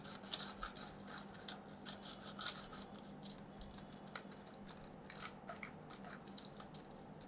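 A pastry brush spreads grease along the sides of a baking pan for brownies, a soft, faint bristly scratching and patter with irregular light strokes over quiet room noise.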